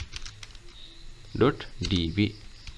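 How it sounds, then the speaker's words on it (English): Keystrokes on a computer keyboard entering a Windows command to delete an icon cache, a few quick soft taps under a steady voice explaining the steps. "Then after you need to type this command del space /a space /f icon"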